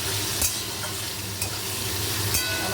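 Ghugni with turmeric and salt is stirred in a pot over the heat, a steady frying hiss broken by three or four distinct scrapes of the spoon, close and with no voices.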